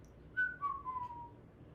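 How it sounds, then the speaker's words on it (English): A person whistles a short tune of two or three clear sustained notes, gliding down in pitch, faint and alone with no talk. "he started to whistle"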